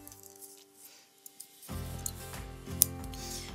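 Scissors snip embroidery thread, a couple of small quiet clicks followed by a single sharper cut amid soft handling noise and a low background hum.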